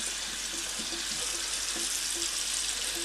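Water pours steadily into a pot of chicken for stock, with a constant rushing splash, close by and uninterrupted.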